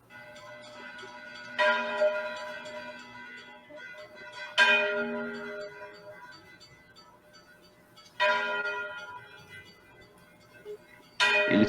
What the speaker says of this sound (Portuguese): Eles fazem de fundo tá tendo uns sinos tocando.